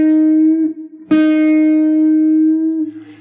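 An electric guitar lick rings out alone as a sustained note, then a fresh pick attack and a long held note nudged about a quarter step sharp with a string bend, slowly decaying.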